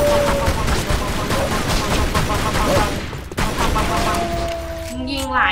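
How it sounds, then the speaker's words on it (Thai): Gunfire rattles in the 2007 Tomb Raider video game, a dense run of rapid shots and cracks, loud and continuous, easing briefly before sharp ricochet-like tones near the end. "ยิงหลายนัดแล้วไม่ตายเลย"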